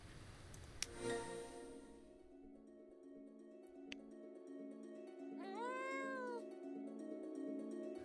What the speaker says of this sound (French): On a un chat qui nous harcèle là, il nous suit depuis tout à l'heure.